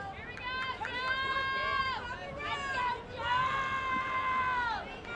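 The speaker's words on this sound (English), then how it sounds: "as you hear from the crowd, Mike, the fans are pleading for some more runs" Fans at a college baseball game between Volunteer State and Chattanooga State shout and cheer in sustained, rising bursts, a loud crowd roar rising and falling in two long waves.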